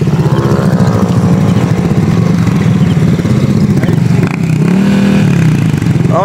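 A Yamaha Mio Sporty motorcycle with a 59 two-valve engine setup revs loud and close, its buzzing engine note holding steady then dipping and climbing again near the end.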